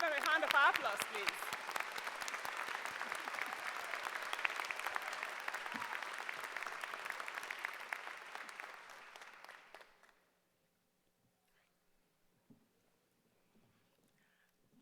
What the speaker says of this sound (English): Let's give them a hand of applause, please.